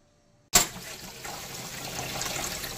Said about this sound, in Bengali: মুগ আর মুসুরির ডাল ভালো করে ধুয়ে নিচ্ছি, রানিং ওয়াটারের নিচে ধরেছি ধোয়ার জন্য।